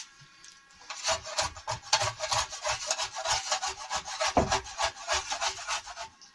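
Repeated rhythmic scraping strokes rasp dried glue off glued-together wooden shelf boards, close and steady, each pass a dry grating stroke across the grain.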